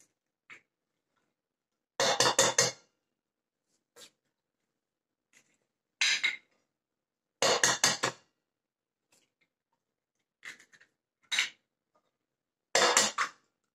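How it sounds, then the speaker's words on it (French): A whisk beats chocolate cake batter and four whole eggs in a bowl, in short, brisk bursts of rapid clicking strokes separated by quiet pauses. "Je vais mélanger à l'aide du fouet et je vais rajouter mes 4 œufs en entier"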